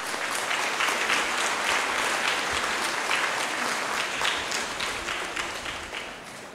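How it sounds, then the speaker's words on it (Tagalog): A church congregation applauds a priest's announced installation as chapel chaplain. Dense, steady clapping from many hands fills the room, then slowly fades toward the end. "di ko alam kung ba't kayo pumapalakpak"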